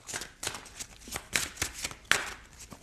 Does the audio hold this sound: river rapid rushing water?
no